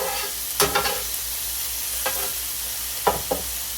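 Butter melting and sizzling on a hot griddle, a steady close hiss running throughout, with a few sharp scraping or tapping sounds from a utensil on the metal surface.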